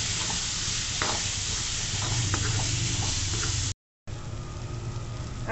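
Tomato gravy for chana masala sautéing in oil in a kadhai: continuous close frying sizzle and hiss with occasional stirring clicks, briefly cut to silence before resuming.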